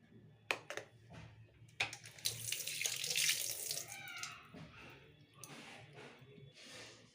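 Tap water runs into a sink while moong dal is rinsed by hand, with splashing, sloshing and several short bursts of flow between quieter pauses.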